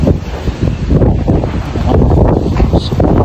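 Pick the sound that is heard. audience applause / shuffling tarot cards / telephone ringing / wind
wind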